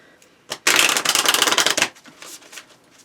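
A small deck of thick cardstock tarot cards is riffled once in a loud, close burst of about a second, followed by a few faint taps as the cards settle.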